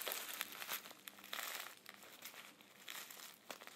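Foil pouch of Vintage Bowl pipe tobacco being opened up close, a quiet run of crisp crinkling and rustling bursts with brief tearing sounds, uneven in rhythm and free of speech.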